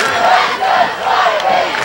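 The crowd at the 2008 Mainland vs. Holy Spirit high school football game gives a loud, sustained roar of yells and cheers.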